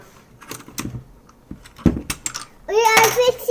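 Keycaps clicking and clattering on a Keychron K4 keyboard, sparse taps up close with a voice chiming in over the later part.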